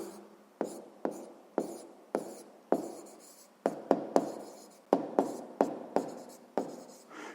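Pen strokes scratch across paper in a steady series of short, sharp strokes with brief pauses, close and clear, as a math answer is written down.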